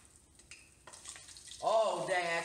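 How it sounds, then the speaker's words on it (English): Trout fillets hit hot oil and burst into a bright crackling sizzle after a few quiet clinks, the frying growing loud and steady at the end. "That's sizzling away."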